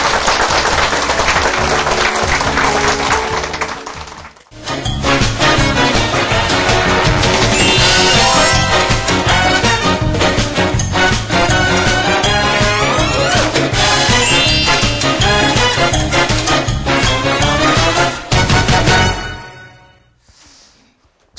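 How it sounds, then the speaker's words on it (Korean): A large audience claps loudly in a dense, sustained burst of applause that fills most of the stretch, then drops off abruptly near the end. "주님께 박수."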